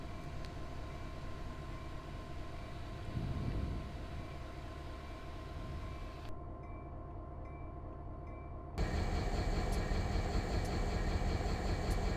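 A passenger train in the Train Simulator 2015 video game runs into Santa Ana station in Southern California, with a steady low rumble of engine and wheels, a sudden drop partway through, and a louder, fuller roar toward the end.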